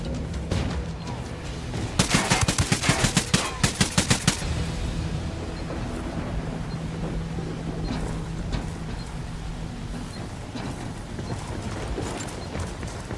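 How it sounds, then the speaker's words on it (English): Gunfire and a flashbang in Ghost Recon Wildlands: a sharp rapid burst of shots early on, then a lingering dull ringing ambience with scattered distant thuds. "Lobbing a flashbang."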